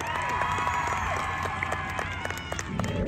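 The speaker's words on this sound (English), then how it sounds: "Ladies and gentlemen, round of applause for senior Jacob Eckenrode." Crowd cheering and applause fill a football stadium on senior night, loud and sustained with shouts rising over steady clapping throughout.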